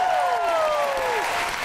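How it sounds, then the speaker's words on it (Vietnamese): A Vietnamese game show studio audience applauds in a short burst, with a gliding, falling sound-effect tone ringing over the clapping. "Vỗ tay lên."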